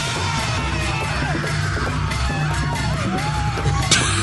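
Theme music packed with yelling and screams over clattering, banged pots and pans, a dense, loud, continuous racket throughout.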